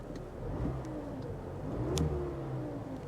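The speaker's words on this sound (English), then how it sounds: "Rev it up." A 2018 Mazda 3 engine revs up and settles back at idle, a steady mid-pitched drone with a couple of rising sweeps, recorded close by with no talking.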